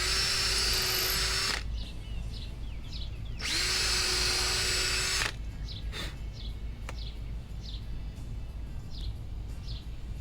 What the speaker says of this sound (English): drill those pilot holes